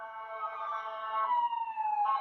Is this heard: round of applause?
no